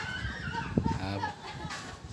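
A Sebright hen clucks in a short burst of rising, throaty calls, fairly close, over a low background hum, just after laying an egg.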